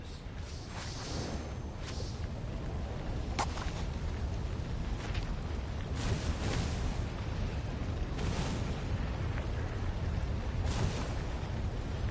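Booming cannon trap blasts in a temple within a video game, several loud bursts spread across a dense, continuous rumbling background with no talk.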